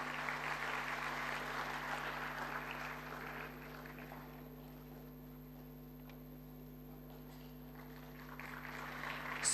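An audience at a forensic science conference ceremony applauds a runner-up prize winner; the clapping is moderate and fades over a few seconds, leaving a quieter hall with a steady hum before a faint rise at the end.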